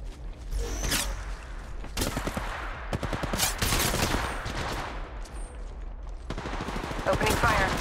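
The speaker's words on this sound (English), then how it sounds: "Opening fire." Rapid automatic gunfire in the battle-royale video game Apex Legends, dense bursts of shots with whooshes and voices, moderately loud and nearly continuous throughout.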